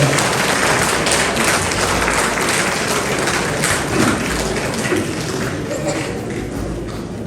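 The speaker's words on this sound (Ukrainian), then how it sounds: "Ваші оплески, Микола Підгорний." A crowd at the opening of a jubilee solo art exhibition bursts into dense, sustained applause that fills the room evenly and fades slightly toward the end.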